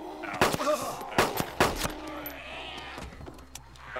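Several sharp gunshots ring out in DayZ, three or four loud bangs in the first two seconds, then fading into quieter ambient game noise.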